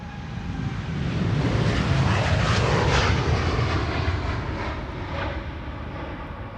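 An airplane at Amsterdam Schiphol Airport makes a loud, steady broadband roar that swells slightly and holds for the whole stretch, with no voices.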